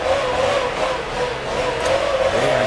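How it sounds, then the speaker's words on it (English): Several car engines rev and rumble together at close range, a steady loud roar that swells and dips, with a faint squeal of tires near the end. "See, they're revving up their motors, aren't they?"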